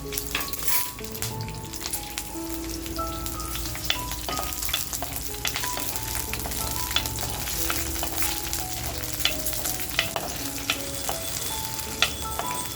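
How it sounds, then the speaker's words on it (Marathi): Green chilies frying in hot oil for chicken kharda: a steady, close crackling sizzle runs throughout, with small pops and occasional stirring clinks. "आता ज्या मिरच्या घेतल्यात त्या मिरच्या अगोदर आपल्याला टाकून घ्यायच्यात तेलात।"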